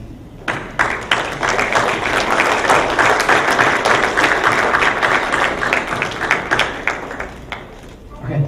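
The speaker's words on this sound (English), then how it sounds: "give a round of applause to your parents and your grandparents." Applause from parents and grandparents at a middle school graduation, a dense sustained clapping of a large crowd in an indoor hall, rising quickly and tapering into scattered claps near the end.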